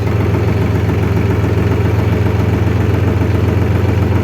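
A heavy engine idles steadily and loudly up close, a constant low rumbling throb with no pauses or voices.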